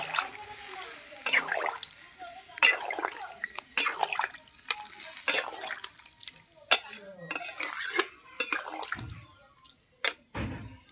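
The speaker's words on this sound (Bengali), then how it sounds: "দেখুন এবার জল দিয়ে দেবো" Water poured into a pan of sautéed ridge gourd and potato, splashing and sloshing in uneven bursts with metallic knocks against the pan, a steady faint hiss beneath.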